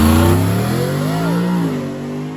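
A fast Ford truck accelerates hard down a drag strip, its loud, near engine roar rising and bending in pitch as it passes, then easing slightly.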